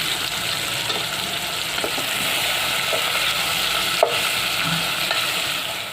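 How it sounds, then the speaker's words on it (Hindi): Onions fry over low heat in a pan for vegetable pulao, giving a steady close sizzle with occasional soft scraping stirs and one brief clink, and no talking. "प्याज अच्छे से फ्राई हो चुकी है।"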